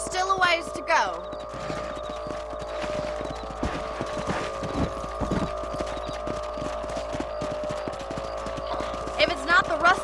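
Hooves of a ridden horse clip-clop in a steady rhythm in Red Dead Redemption, moderately close, under game music and a voice talking.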